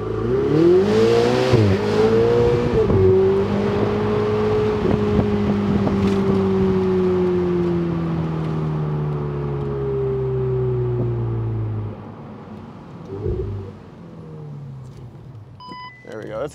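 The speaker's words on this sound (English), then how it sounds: "Yeah, it's a nice exhaust." A Ferrari 488 Spider's exhaust booms loudly as the car pulls away nearby, its engine note rising and then easing into a long steady drone before fading into quieter street sound.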